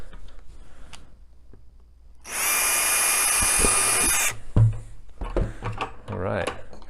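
A power drill bores holes through the side of a plastic bucket for a homemade mousetrap, a close high whining burst lasting about two seconds, with handling clatter and knocks around it.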